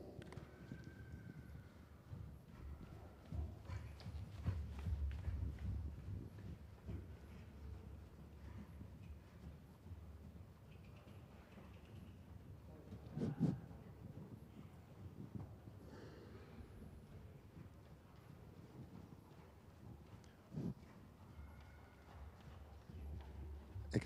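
A horse walks on arena footing at a Dutch riding evaluation day in Nunspeet, its hooves clip-clopping in a steady, moderately distant rhythm over low background noise, with no talk.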